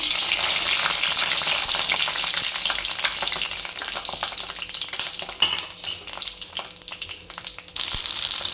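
Red chilies frying in hot oil in a pan for a ripe chili and tomato chutney, a loud continuous sizzle with crackling pops and occasional stirring clinks, no voices.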